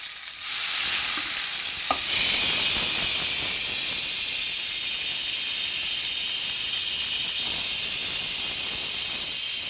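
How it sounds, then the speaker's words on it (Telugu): Tomatoes frying in a pan with keema, tamarind pulp and salt, giving a loud continuous hiss and sizzle with scraping stirs, a sharp spatula knock near the start, and no voices. "ఇందులో టమాటాలు కూడా వేగిపోతే"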